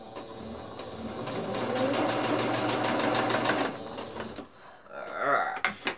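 A sewing machine stitches quilt block strips in a fast, steady mechanical whir for about four seconds, then stops, followed by brief rustling of fabric and handling sounds.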